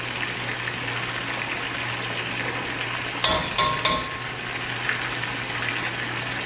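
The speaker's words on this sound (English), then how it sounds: "I'm gonna try to put as much griot in the pan, in the little castor, the little pot, small pot" Haitian griot, fried pork, bubbling in a small pot with a steady low crackle of hot oil, a few louder clatters partway through, no talking.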